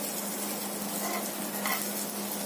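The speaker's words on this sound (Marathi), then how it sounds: "आता आपण त्यांना परतून घेऊया. हे बघा कशी खरपूस भाजली आहे." Mandeli fish frying in a pan, being stirred and turned, with a steady loud sizzle of hot oil and soft scraping of the spatula close by.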